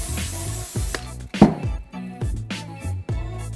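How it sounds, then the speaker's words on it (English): A short hiss from a spray can of adhesive opens the clip over soft background music, followed by light tapping as crystals go onto a craft flower box. "spray and let it get tacky for a few seconds and drag"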